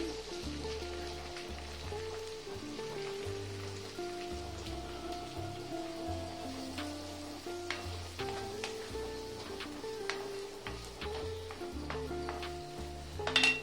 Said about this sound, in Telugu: ఆయిల్ వేడెక్కిందండి ఆనియన్ కోసి పెట్టే కదండి ఉల్లిపాయ పచ్చిమిరపకాయలు వేసేస్తున్నాను